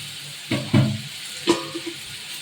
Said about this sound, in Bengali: আলু বরবটি তরকারি করছি